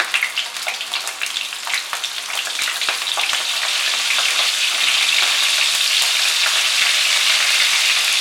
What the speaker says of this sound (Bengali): পটল ভাজার সময় আমি এর মধ্যে সামান্য নুন আর সামান্য হলুদ দিয়ে দিচ্ছি।